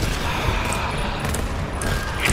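Gunfire in the video game GTFO: a steady, dense rattle of shots holds at even loudness through the short stretch, with a few sharper hits near the start and end.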